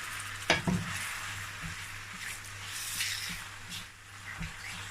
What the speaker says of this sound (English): so now I'm going to pour my tomato that I boiled earlier.